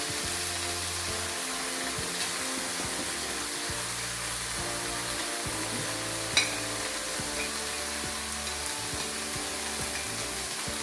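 Masalas sizzle steadily in hot oil in a pot for a Tamil Nadu mushroom biryani, a continuous close hiss with one sharp clink partway through and no talking.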